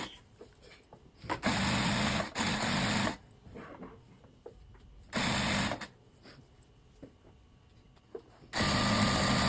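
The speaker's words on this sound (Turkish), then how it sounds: "Dairemiz 16 santim çapına gelene kadar dikiyoruz." Sewing machine stitching jute rope into a growing circle for a child's printed bag, running in three loud bursts of a few seconds each, separated by quieter pauses with light handling clicks, close up and without talk.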